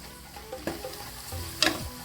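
Green chili and tomato sizzle and fry gently in a pan while being prepared for mushroom biryani, with a soft steady crackle and a couple of brief stirring clinks.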